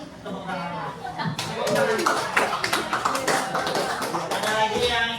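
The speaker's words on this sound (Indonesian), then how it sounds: "Tepuk tangan." Scattered hand clapping from a high school class after a group presentation, a few close claps building into a short round mixed with chatter and voices.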